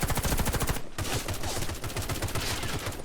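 A full-auto weapon in the shooter game Warface fires long, continuous bursts of rapid, evenly spaced shots, with a brief pause before the gunfire resumes; it is loud and dense throughout, with no voices.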